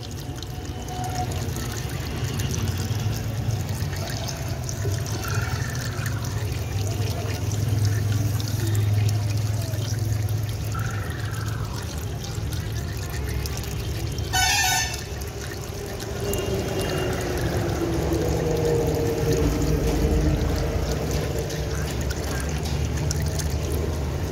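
Distilled water is poured steadily into a tank, a continuous liquid splash with a low rumbling undertone, a brief sharp click partway through and the flow growing fuller toward the end, with no talking.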